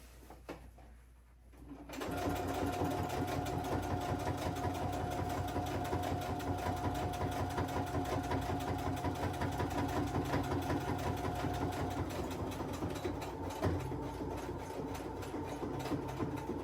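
A sewing machine stitches a seam, starting after a brief quiet moment and then running as a steady, continuous close whir for the rest of the stretch.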